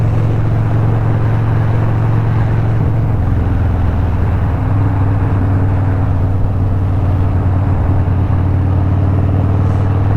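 Motorcycle with a Thunder Max EFI running during engine break-in, a loud steady rumbling idle that shifts pitch as the revs are varied, close and continuous with no talk.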